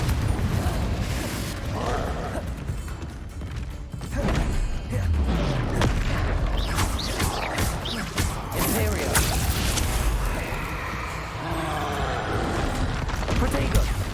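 A Confringo fire spell blasts during combat in the video game Hogwarts Legacy, with booming explosive bursts amid dense crashing battle effects and a constant loud layer of game noise, while a player talks over the action.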